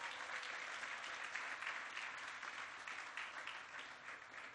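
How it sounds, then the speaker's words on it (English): A crowd applauds at a construction event at the National Urban League headquarters, with steady, even clapping that stays fairly distant and fades slightly toward the end, and no voices heard. "Let's give them a round of applause."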